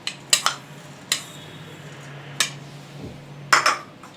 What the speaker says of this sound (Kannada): ಇವಾಗ ಅದನ್ನ ಹಾಕೊತಿದ್ದೀವಿ ಒಂದು ಬಾಣಲಿಗೆ